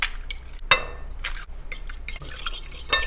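Metal utensil scraping and clinking against a pot as a thick banana chocolate cake mixture with eggs is stirred, with irregular sharp taps and soft swishes, close up.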